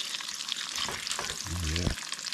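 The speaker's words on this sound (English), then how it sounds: "I cooked too much grease out of the bacon," Bacon frying in a pan of grease gives a steady close sizzle and crackle throughout, with a brief low voiced sound near the end.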